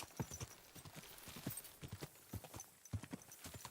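Hooves of a horse ridden in the medieval game Kingdom Come Deliverance 2 thud in a steady galloping rhythm, close and moderately loud, with no voices.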